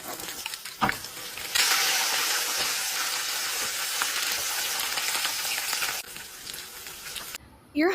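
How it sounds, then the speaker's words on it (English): Pizza deep frying in hot oil gives a loud, continuous hissing sizzle that starts abruptly, holds steady for several seconds, then drops off, with a brief clatter at the start and end. "you're deep frying pizza"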